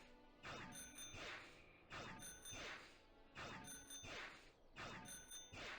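The bike bell in Pokemon Sword/Shield rings four times at an even, repeated pace, each a crisp metallic ding with ringing overtones, quiet and alone.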